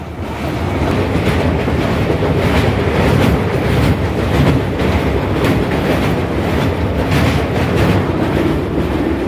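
The 12821 Dhauli Express passenger train runs on rails between Howrah and Bhubaneswar, giving a loud, steady, close rumble with rhythmic wheel clatter for the whole stretch and no voices.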